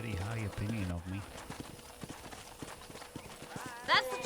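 Horse hooves clip-clop in a steady walking rhythm in the video game Red Dead Redemption, with a voice speaking at the start and a brief musical chime near the end.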